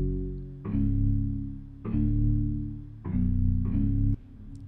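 Alchemy synth preset called Eastern Hammers for an Afrobeats track, four loud struck notes with heavy low end, each attacking sharply then sustaining and fading, evenly spaced and with no one speaking.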